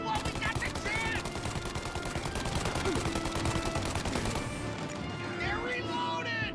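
Rapid gunfire crackles through a shootout in the video game Mafia, bursts of shots running almost continuously under loud shouting voices.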